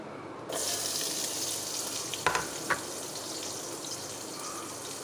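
Onions sizzle and fry in a pan with a little salt, a steady hiss throughout with a couple of brief clinks from stirring, no voices.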